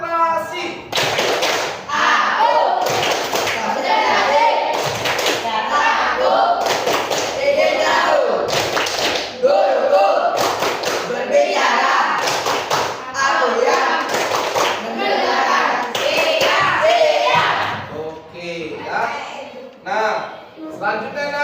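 Indonesian schoolchildren in a classroom doing a rhythmic clapping chant, loud group claps in repeated patterns mixed with chanted voices, tapering into scattered claps at the end.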